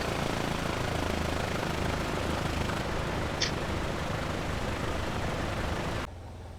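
A Piper Cherokee piston engine idles in the A2A add-on for Flight Simulator X, a steady mid-level drone that cuts to a quieter hum near the end as the engine is shut down.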